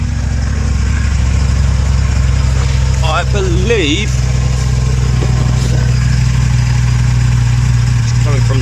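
A car engine idles steadily with its exhaust blowing from the manifold on an ABF 16v, a constant low rumble close to the microphone while someone talks briefly over it.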